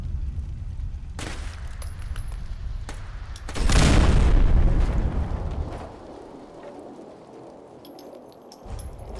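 Missile launches and explosions in Fallout 4 with the Frost mod: a sustained low rumble, then a loud booming burst with a broad roar that slowly fades, and sharp distant cracks scattered before it.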